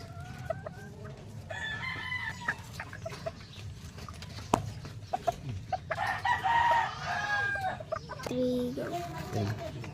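Small bantam rooster crowing a few times and clucking nearby, with a person speaking intermittently in the background.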